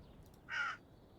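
A single short bird call, crow-like and caw-ish, voiced for a character in the video game Airborne Empire, sounds once, faint and brief over quiet background hiss.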